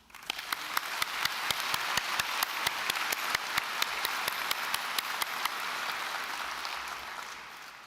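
A graduation ceremony audience at DCU applauds graduates, a moderately distant, sustained patter of many hands with a few sharper nearby claps standing out at regular intervals before it thins toward the end.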